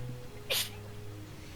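A single short sneeze, moderately loud, bursts out once over a quiet room hum during a tabletop role-playing game session.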